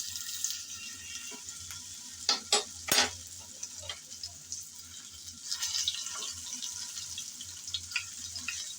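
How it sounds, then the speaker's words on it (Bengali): Bitter gourd goes into hot oil in a pan on a home stove, giving a steady hiss with sharp crackling bursts and occasional stirring scrapes, close by and with no talking. "গরম তেলে এখন দিয়ে দেব করলা।"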